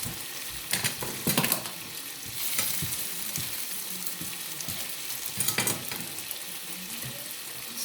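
Four scrambled eggs fry in a pan for a Filipino breakfast, giving a continuous close sizzle broken by a few bursts of scraping and stirring, with no talking.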